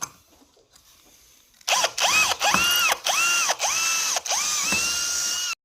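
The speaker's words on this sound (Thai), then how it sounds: "ก็จะขยายรูด้วยดอกสว่านเจดีนะครับผม" An electric drill bores holes in scrap steel for a folding chair, whining loudly in about seven close, short bursts that rise and settle as the bit bites, separated by brief pauses.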